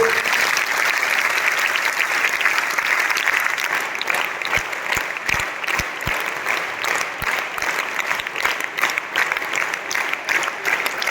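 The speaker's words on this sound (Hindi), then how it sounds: "3 ताली से स्वागत करो फिर" Girls clap together for about eleven seconds to welcome a guest, a steady, dense round of applause with a few sharp louder claps standing out near the middle.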